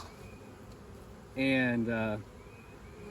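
Carniolan honey bees buzz around hives, a close, steady drone that swells for under a second, briefly dips, then resumes before fading back into quiet outdoor air.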